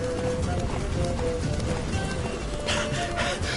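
Horse hooves gallop in the video game The Witcher 3: Wild Hunt, a steady rapid clip-clop of hoofbeats at moderate volume with faint background game ambience.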